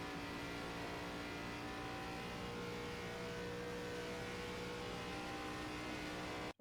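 A race car engine in iRacing at full throttle on the ARCA oval at Atlanta, droning steadily and loudly at high revs for the whole stretch, then cutting off abruptly at the very end.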